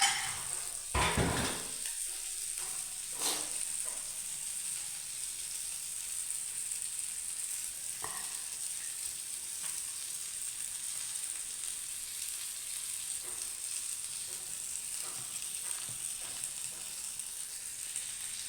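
Fish frying in a pan gives off a continuous, even sizzle, with a few sharp clinks of utensil against pan near the start, then steady frying alone.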